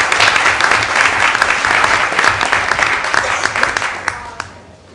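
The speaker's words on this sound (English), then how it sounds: "I'd like to ask the audience to give these folks a round of applause." An audience at a school board meeting applauds in a dense, steady burst of clapping that fills the room and fades out toward the end.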